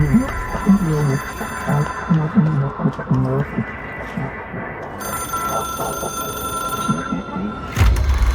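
A telephone rings steadily inside the video game Control, a tonal ringing that runs under low hum and faint game ambience, with a louder burst at the very end.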